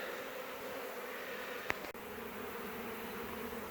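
Honey bees from a hive being cut out of a floor make a faint, steady buzz that holds evenly throughout, with one short click partway through and no voices.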